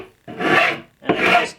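Two long rasping strokes of a hand file across a laminate edge on a kitchen island, close and loud, each stroke lasting about half a second with a short pause between, no voices.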